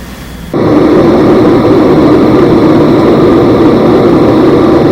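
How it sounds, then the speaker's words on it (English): A loud, steady roar of jet aircraft engine noise kicks in after a brief quieter moment and holds constant, broadband and droning, with no voices. "On the left, you're going to hear jet noise"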